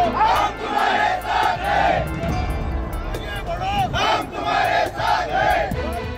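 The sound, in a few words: crowd cheering celebrating BJP's first election victory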